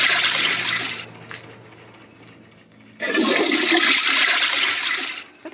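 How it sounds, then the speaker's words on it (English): A toilet flushes in the horror video game Granny 3, a loud rushing burst that fades to a quiet trickle, then a second strong gush of water before it cuts off. "Flush the toilet."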